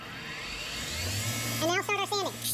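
A wood lathe motor switches on and spins up to full speed, a rising hum that settles into a steady drone, while a person talks briefly over it near the end.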